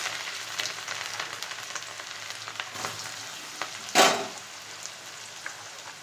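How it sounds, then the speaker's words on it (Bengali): Carrots and other vegetables for fried rice hit hot oil, producing a steady crackling fry with one loud burst of sizzle partway through, close up and without talk. "এখন তেল গরম হয়ে গেছে এখন আমি এখানে সবজিগুলো দিয়ে দেবো এক এক করে প্রথমে গাজর দিয়ে দিলাম"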